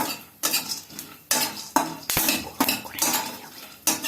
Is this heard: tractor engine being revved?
no